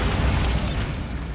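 A Bombarda spell from Hogwarts Legacy on PS5 lands as a loud, dense explosive burst. The roar is sustained and broadband, filling the whole short moment without pause.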